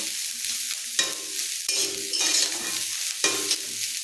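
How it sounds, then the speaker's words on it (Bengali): Loud, steady sizzling of cauliflower frying in a pan, with occasional stirring scrapes and no voices. "ফুলকপি ভাজা বসিয়ে দিচ্ছি"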